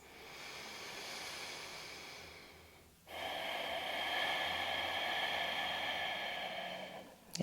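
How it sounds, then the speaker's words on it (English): Deep breathing during a yoga hip-opening practice: a long slow exhale that fades out, then a strong, close inhale-exhale with an airy, rushing quality, alone without talk. "Two more breaths."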